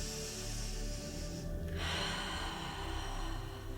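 Deep breathing during a somatic relaxation exercise: a long slow inhale and exhale that sound soft and close over a steady low background hum.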